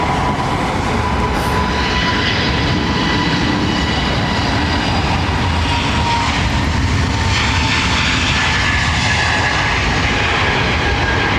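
An aircraft departs from London Heathrow Airport with a loud, continuous engine roar and broadband rumble that holds steady throughout, with a faint whine over the top.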